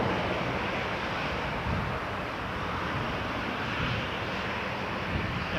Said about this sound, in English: Looks like there's another Morningstar Cessna for FedEx coming in.